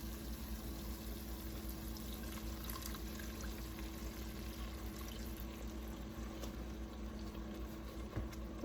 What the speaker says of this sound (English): I am going to add in 1 cup of red cooking wine dry.